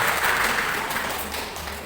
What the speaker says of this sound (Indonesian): tepuk tangan untuk Kelurahan Karangroto